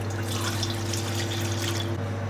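A litre of water poured into a bowl of flour for Neapolitan pizza biga dough, a steady close splashing stream lasting a couple of seconds over a low constant hum.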